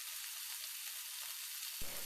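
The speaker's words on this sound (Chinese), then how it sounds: "肉饼每面各煎1分钟，" Meat patties sizzle steadily in a frying pan, a loud continuous hiss with faint soft pops and a brief louder crackle near the end; no one speaks.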